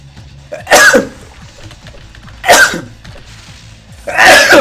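A person sneezing three times close to the microphone, each a loud, sharp burst spaced about 1.5 seconds apart, with no other talk.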